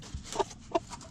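A mother hen, a former battery-farm layer, gives two short, close clucks near her chicks at morning feeding time.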